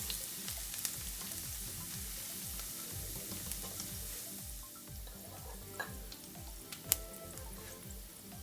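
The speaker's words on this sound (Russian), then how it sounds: "И начинаем обжаривать." Steady sizzling and crackling of finely chopped garlic frying in hot oil in a pan, close and continuous, with occasional small pops and a faint rhythmic stirring underneath.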